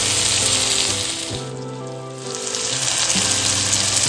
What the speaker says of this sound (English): The prawns is getting grilled now.